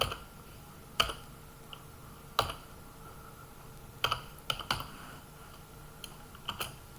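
Code being typed on a computer keyboard, scattered key clicks and short bursts of taps with quiet gaps between them, close and fairly soft.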